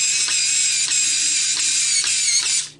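A small electric screwdriver whines steadily at close range, driving screws back into an adapted toy hedgehog, with faint regular ticks under the whine before it winds down at the end.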